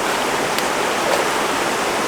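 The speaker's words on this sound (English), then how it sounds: "Taggart River!" Rushing water of the Taggart River, a steady, loud broadband roar of a fast-flowing stream heard close by, continuous throughout with no voices.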